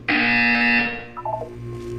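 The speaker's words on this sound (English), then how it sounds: "You will hear a buzzer." A loud electronic buzzer from the Portal 2 video game sounds once, a steady harmonic drone lasting under a second, then decays into a fainter stepped electronic tone.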